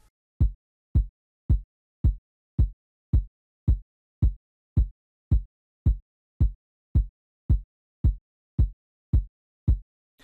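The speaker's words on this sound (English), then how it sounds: "The first kick, the main kick now, it sounds like this." The main kick drum sample of a seben beat programmed in FL Studio, repeating as a steady, evenly spaced four-on-the-floor pulse of deep, punchy thumps, about one and a half per second, with nothing else playing.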